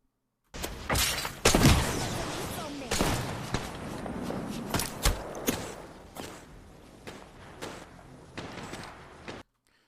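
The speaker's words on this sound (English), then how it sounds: "just listen to the bullets themselves, for example. You can tell exactly where them bullets land." Gunfire in the Apex Legends shooter game, a string of sharp loud shots and impacts at irregular intervals, some close and punchy, others lighter, mixed with clattering hits and game noise, with no one talking.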